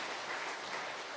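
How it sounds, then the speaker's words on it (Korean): A church congregation claps to welcome newcomers at a Sunday worship service, a steady, even wash of applause at moderate level filling the whole short stretch with no voices over it. "박수로 환영합니다"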